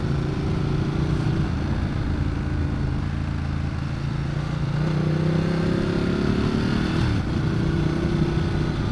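Steady, loud engine drone of a Ducati Multistrada 1200 motorcycle on the move, with a sustained low hum and gentle pitch shifts as the rider works along a winding road with blind corners.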